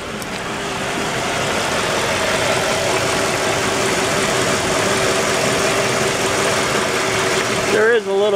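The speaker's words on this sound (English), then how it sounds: "Let's come listen to the engine." A car engine with an oil sludge problem idles steadily close by, a continuous even hum with faint slight knocking beneath it, and a voice briefly breaks in at the very end.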